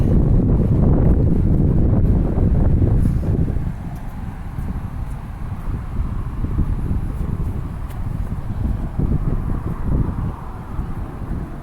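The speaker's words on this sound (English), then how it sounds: "I think the wind's coming from that way, probably the northwest area." Steady, loud wind buffeting the microphone outdoors on the Macdonald Bridge over the harbor, a dense broadband rush that eases slightly after a few seconds and keeps blowing throughout.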